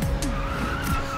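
Ford Mustang Boss 302 drifting, its tires squealing and skidding in a continuous howl over steady engine drone, loud and close throughout.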